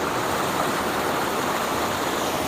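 The Erin Ijesha waterfall at its sixth stage gives a steady, loud rushing roar of falling water, unbroken throughout, with no voices over it.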